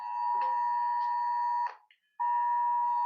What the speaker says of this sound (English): For some reason, my alarm just went on.